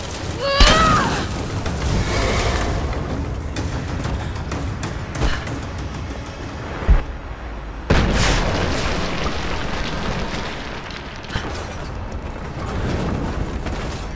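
Enemy gunfire and explosions in Rise of the Tomb Raider, with loud booms near the start and around the seven- and eight-second marks over a continuous rumbling battle din.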